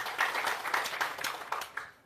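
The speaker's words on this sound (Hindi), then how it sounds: "जोरदार ताली" A crowd at a panchayat committee meeting claps in a quick, steady burst of applause, moderately loud and fairly close, tapering off at the end.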